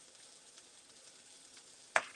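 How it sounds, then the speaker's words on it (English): Whiting fish fry in a pan with a faint, steady sizzle and crackle, then two louder sharp hisses or clatters burst out close to the end. "I'm frying fish. I'm frying whitings."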